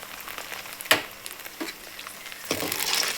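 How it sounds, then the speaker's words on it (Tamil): Steady crackling sizzle of bonda (fritters) frying in hot oil, with a few louder pops and spatters standing out. "அப்படியே மெதுவாக செஞ்சு நம்ம பொரிக்க முடியும்."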